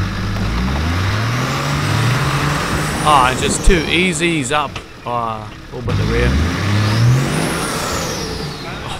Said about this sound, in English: Gotta love the sound of that truck.